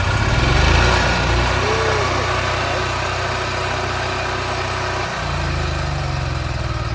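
The small generator on a Forest River Forester LE 3251 DSF motorhome is pull-started and settles into a loud, close, steady idle with a constant droning hum that dips only briefly near the end.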